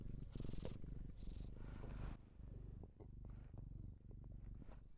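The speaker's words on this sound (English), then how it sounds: "Can you hear her purring?" A cat purrs very close to the microphone, a low rhythmic rumble in repeated breaths, with rustling handling noise at the start.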